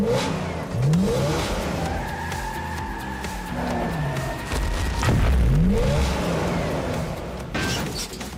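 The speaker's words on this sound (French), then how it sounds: "je vais devoir faire une petite marche arrière." A Hot Wheels car reverses with loud, close engine revving and two short squealing tire bursts over a constant motor hum.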